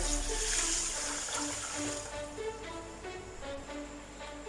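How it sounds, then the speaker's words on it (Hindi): Water poured from a jug into a pan of sugar in a home kitchen to make syrup for semolina halwa, a steady close splashing pour running throughout with no talk. "ऊपर से हमने पानी डाल देने 2 जग।"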